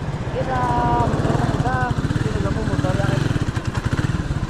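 A Yamaha Mio motor scooter's engine runs steadily and fairly close, a continuous low buzzing drone heard on a road ride in Surallah, with people talking over it throughout.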